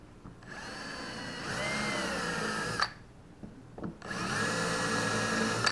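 A power drill with a deburring bit whirs and grinds into boat gel coat in two long bursts, pitch rising under load, with a brief quiet pause between them.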